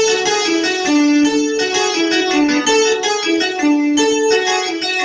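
A slow, clean melodic rock riff with a looping, uneven phrase in 7, played steadily and up close.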